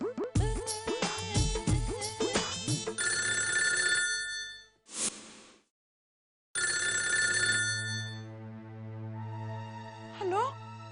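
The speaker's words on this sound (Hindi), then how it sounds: "किसका फोन है?" A telephone bell rings in a household scene, its tone cutting in over music and speech, falling silent, then returning before a voice answers.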